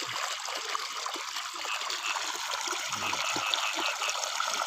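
Water pumped through a hose into a cassava field at about three in the morning, a steady broadband rush and trickle running throughout, with some low spoken voices underneath.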